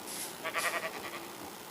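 A sheep in Minecraft gives a faint, wavering bleat of a few pulses over a steady background hiss, quiet and without speech.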